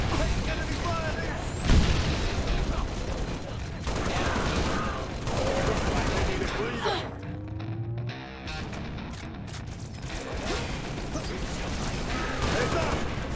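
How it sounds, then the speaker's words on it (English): Enemy gunfire in the Halo Reach video game, dense rattling bursts and booms mixed with game effects and a brief lull before the firefight resumes, with voices calling out over the combat. "Taking enemy fire here!"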